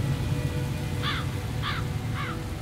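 At the close of a doom metal song, steady rain falls under three evenly spaced crow caws, each distinct and mid-distance, with no talking.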